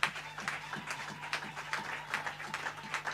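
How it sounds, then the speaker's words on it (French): Scattered applause from a church congregation, with uneven claps and bursts of crowd noise over a low steady hum, faint and fairly distant. "Donnons une acclamation au Seigneur."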